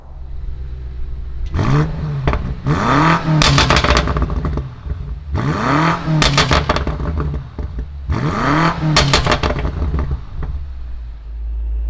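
A 2019 BMW M5 Competition sedan engine starts and revs loudly in four repeated bursts, each climbing to a sharp roar and falling back to a steady idle, close and alone.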